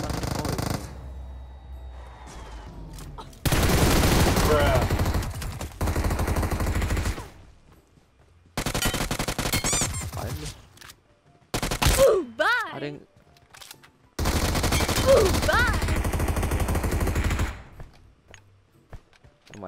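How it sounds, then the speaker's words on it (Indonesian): Bursts of automatic gunfire in PUBG Mobile, loud rapid volleys arriving in separate blocks broken by quiet gaps, with people talking between them. "Kok kayak ada suara tembak."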